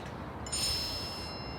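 A short, bright phone message notification chime rings out once, fairly quiet, in a tense drama scene, over low background hiss with no talking during it.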